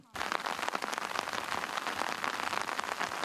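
Heavy rain pours down steadily at a border patrol site, a dense continuous hiss of drops striking surfaces, loud and close throughout.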